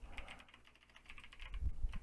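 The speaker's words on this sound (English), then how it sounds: "If I can type. Typing's hard." Rapid clicking keystrokes on a computer keyboard while entering a command to respring a jailbroken iOS 11 device from a Windows PC, an irregular close burst of taps that builds louder near the end.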